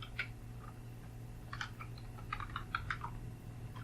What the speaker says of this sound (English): I could also type here, let me type the number base later.